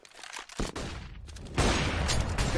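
Counter-Strike: Global Offensive gunfire at the IEM Katowice finals, with a sharp shot followed by rapid bursts of automatic fire and loud, dense volleys toward the end.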